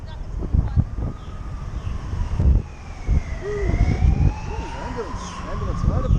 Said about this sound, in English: Ambulance motorbike.